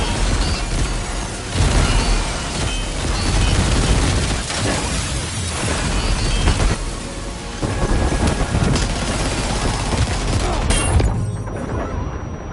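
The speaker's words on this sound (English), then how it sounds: "The Magellan's main cannon is online and ready to provide fire support." Heavy artillery barrage from a ship's main cannon providing fire support in the Death Stranding 2 video game, with dense booming blasts and rumbling crashes rolling on continuously at high volume, no speech.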